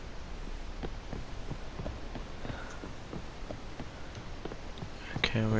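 A horse's hooves clip-clop at a steady walking rhythm in the video game The Witcher 3, quiet and regular over faint background noise.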